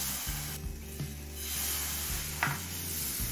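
Rice-flour batter for patishapta pancakes hits a hot pan greased with a little oil and sizzles quietly and steadily, with a few soft clinks from the pan being handled close by.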